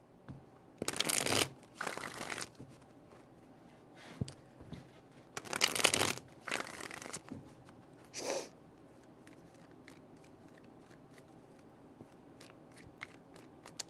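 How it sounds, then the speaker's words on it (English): Tarot cards being shuffled by hand, several short bursts of crisp riffling and slapping separated by quiet pauses, close and fairly soft. "Three shuffles."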